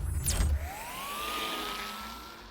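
A police car siren in the Batman: The Telltale Series video game, a single rising wail that climbs and holds steady at moderate volume after a brief low rumble, with no talk over it.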